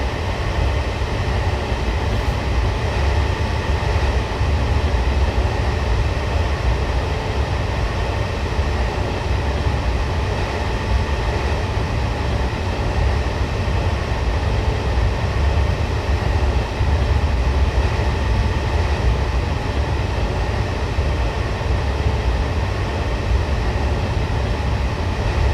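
A train rolls steadily along a line from London Euston toward Tring in Train Simulator 2019, making a continuous low rumble and hum with faint rail noise and no talking.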